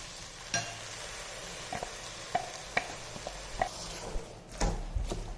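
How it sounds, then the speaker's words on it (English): Tomato puree stirred into a sizzling pan of veg biryani, a steady soft frying hiss broken by scattered scraping clicks of a spoon against the pan, with no talk. "Now I am going to add the tomato puree."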